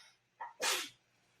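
A single short sneeze: a quick intake followed by a sharp, breathy burst, fairly close and then silence.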